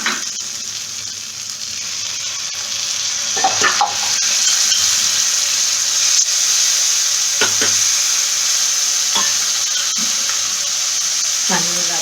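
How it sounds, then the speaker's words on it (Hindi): Cashew paste frying and being stirred into a masala for whole roasted cauliflower, a steady bright sizzle throughout with a few scraping stirs of the spoon cutting in at intervals. "अब इसमें हम डालेंगे काजू पेस्ट।"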